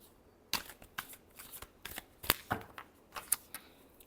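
A deck of tarot cards is shuffled close up, a series of quick riffling flutters and soft snaps in uneven bursts, faint overall and with no talk.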